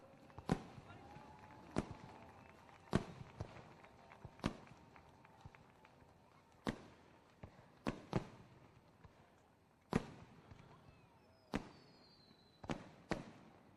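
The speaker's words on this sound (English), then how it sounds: "Lone Wolf fireworks lighting up the sky" Fireworks go off at a sprint car speedway in sharp, separate bangs, about a dozen spaced irregularly, each one cracking loudly and then fading against a quiet background.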